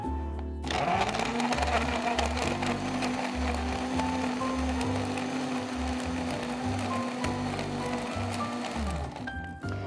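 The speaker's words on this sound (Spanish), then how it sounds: "vamos a batir esto hasta que quede todo bien eh, mezclado, sí, y que la consistencia sea de batido más que de jugo" Electric blender whirring steadily as it purées orange juice, banana and almonds into a thick smoothie, a loud continuous motor drone with shifting pitch, starting after a brief pause.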